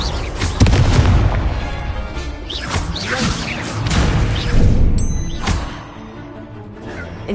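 Confringo blasting spells in the video game Hogwarts Legacy, a rapid series of booming explosions and whooshing bursts in the middle of spell combat, loud and close with a busy layered mix of impacts.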